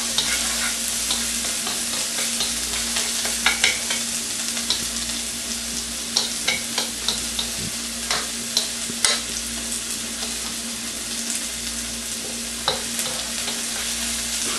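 Red snapper sarciado cooking in a pan, a constant loud sizzle with frequent sharp clicks and scrapes as the mixture is stirred, close and continuous with no voices.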